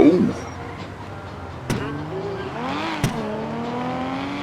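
A car in a racing video game drifts around a track. Its engine tone rises and falls steadily, with two sharp clicks along the way and a continuous drone throughout.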